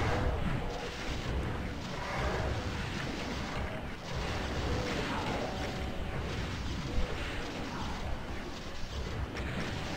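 Revenant rockets blasting and roaring in Doom 2, a dense, continuous wash of explosive rumble and crackling noise that stays loud throughout with no pauses.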